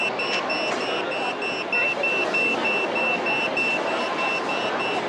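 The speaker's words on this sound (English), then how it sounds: "So now the buzzer is ringing" A repeating electronic beeping pulses steadily through a busy background of room noise and faint voices, moderately quiet throughout.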